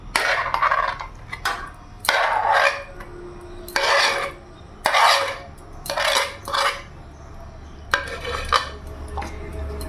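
Spiced paneer is mixed with Kashmiri chillies, and a spoon scrapes and clinks against a bowl in a run of rhythmic strokes separated by brief pauses, close and moderately loud.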